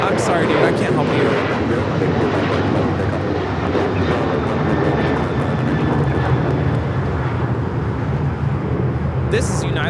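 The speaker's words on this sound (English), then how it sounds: "This is United Airlines 1293 taking off to Houston Intercontinental on the 737-900ER" United Airlines Boeing 737-900ER taking off, a continuous broad jet roar at fairly close range, steady throughout with a faint high whine, no clear talk.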